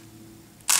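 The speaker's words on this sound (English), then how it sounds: "see how nice smooth sounding the shutter is" Nikon F film camera shutter firing once, a single crisp mechanical click and clack right at the end after quiet room hum, close and clear.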